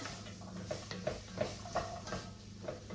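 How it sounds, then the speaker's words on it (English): Chopped carrots and other washed vegetables stirred in a pot with a spoon, giving soft repeated scraping and knocking taps over a faint sizzle, fairly quiet and steady with no talking. "Stir it all together."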